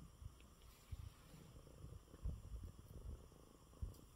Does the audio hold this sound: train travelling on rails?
no